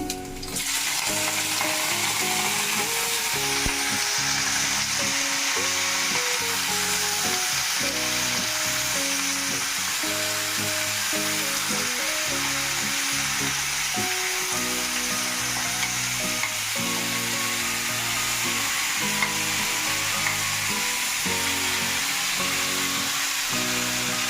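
Chicken and onion fry in a pan with a loud, dense sizzle that stays even and continuous from start to finish, heard close with no talking.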